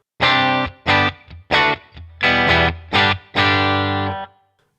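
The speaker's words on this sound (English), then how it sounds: "Let's add in some reverb." Electric guitar run through a Headrush Gigboard with reverb added, played as a series of loud distorted strummed chords, each ringing with a short reverberant tail before the next.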